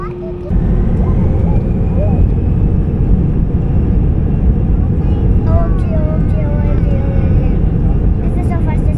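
Airliner taking off, a loud continuous engine roar and rumble building from the cabin, with passengers talking over it.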